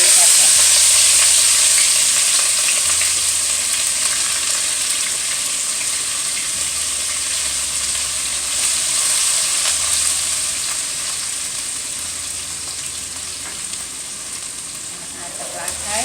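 Green onion and wiri pepper frying in a pan of hot oil, a bright continuous sizzle and hiss that slowly fades a little, heard close up with no talking.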